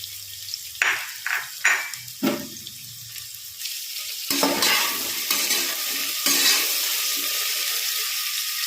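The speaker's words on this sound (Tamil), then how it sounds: "வெங்காயம் ஃப்ரை ஆகிற வரைக்கும் நல்லா அப்படியே வதக்கணும்." Onions sautéed in a pan for mushroom biryani, with a few stirring scrapes early on, then a broad continuous sizzle and hiss that stays steady and close to the end.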